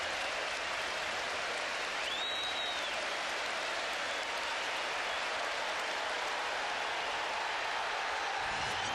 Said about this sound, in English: the applause for Dennis Bergkamp has got even more intense